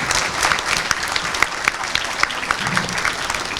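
A seated hall audience gives steady, dense applause as a famous cricketer arrives for a talk session, with many hands clapping continuously at close range.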